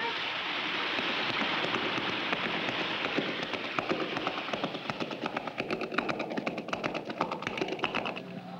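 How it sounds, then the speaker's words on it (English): Rushing waterfall, a steady broad hiss of falling water with a spattering, rain-like texture, loud and continuous throughout. "Wow, what a waterfall."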